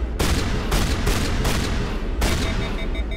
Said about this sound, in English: Let's use my shotgun.